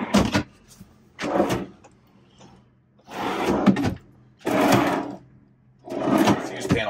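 A drawer in the counter extension of a 2001 Chinook Destiny Class B+ RV motorhome slides open and shut several times, each a rolling scrape lasting about a second, close and fairly loud with short pauses between.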